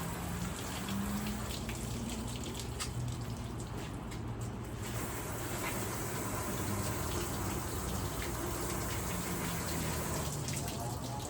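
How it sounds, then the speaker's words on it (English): Water sprays and splashes over the headlight area at the front of a car with its hood closed, a continuous loud gushing hiss with no break. "I'm gonna go ahead and hit this area with a little bit of water."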